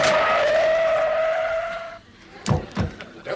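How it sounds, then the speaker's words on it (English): Car tires screeching to a halt, heard as a sustained high squeal that cuts off, followed by a few sharp thuds like doors, fairly close, with no talk. "The car screeches to a halt, and in they come."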